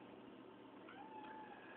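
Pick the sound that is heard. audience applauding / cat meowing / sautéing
cat meowing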